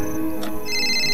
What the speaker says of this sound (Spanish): se preguntaba quién podría estar llamándole a tal hora de la noche